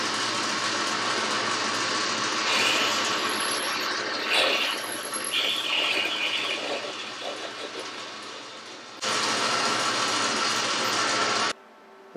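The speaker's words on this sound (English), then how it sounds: "I'll drill that out to 5mm and then put the boring tool in." A loud, steady machine whir with a harsh grinding hiss as a drill cuts steel on a lathe; the tone shifts, then cuts off near the end.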